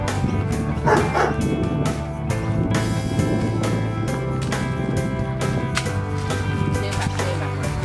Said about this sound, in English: Look at our sniffer dog over here, Max.